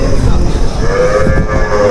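Jersey and Punganur cows at the Krosuru weekly cattle market give a drawn-out moo over a thick, noisy wash of market bustle and background murmur.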